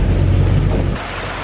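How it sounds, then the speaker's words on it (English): Heavy rain pours down on a sailboat at sea during a dark morning squall, a loud, dense roaring wash that eases noticeably after about a second. "it's absolutely pouring down"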